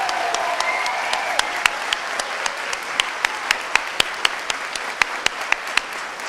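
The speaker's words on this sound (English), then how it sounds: "Last round of applause for our 2025 graduates." Graduates at the 2025 OHSU convocation receive thin applause: sparse, sharp individual claps at a fairly even rhythm over a soft room hush, with a faint sustained tone early on.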